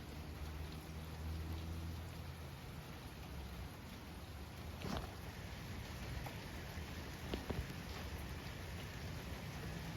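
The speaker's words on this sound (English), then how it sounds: "Raining out here on my car." Steady rain patters on a parked car on a Sunday night in Auburn, Alabama, a dense even hiss with a few louder drops striking near the microphone.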